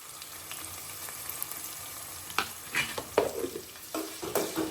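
Marinated gongura chicken stirred in a pan with frying onions: a quiet, constant sizzle, then a few soft scraping stir strokes and light clatter in the second half, with no voices.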